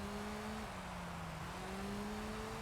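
A Honda Integra's engine revs in the racing video game Gran Turismo 3, a steady high-pitched drone that dips briefly as the car shifts and then climbs again, heard alone at moderate level.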